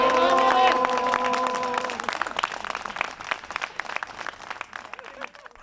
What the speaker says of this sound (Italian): Accompagnati da un lungo applauso